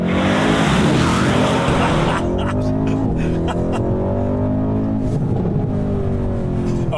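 Mercedes-AMG C-Class rear-wheel-drive race car launching with race start, engine roaring hard and loud from the outset, then rising through revs with quick gear changes and a steady close-up drone, with a brief tire chirp near the start.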